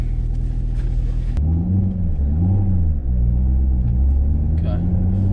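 Corvette ZR1 engine rumbling steadily from inside the car while driving, a low continuous drone with rising and falling revs partway through.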